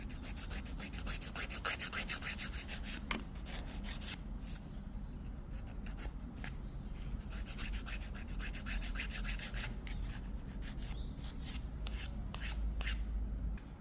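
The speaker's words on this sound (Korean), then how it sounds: "자, 이제 파일링을 해줍니다." Nail file rasping back and forth across a silk-wrapped fingernail while shaping it, a steady run of fast, close, dry rubbing strokes lasting the whole stretch with no talk.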